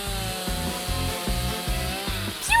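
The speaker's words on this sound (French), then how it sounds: "attention à ma tronçonneuse" A video-game chainsaw cuts in a steady, repeating rhythm of grinding strokes about twice per second, moderately loud and heard on its own.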